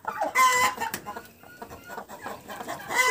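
A broody hen clucks repeatedly in short throaty bursts, close by, with faint high chick peeps scattered throughout.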